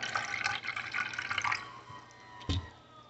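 Blue raspberry Prime drink pours into a container with a bright, trickling splash that tapers off, followed by a brief soft knock near the end.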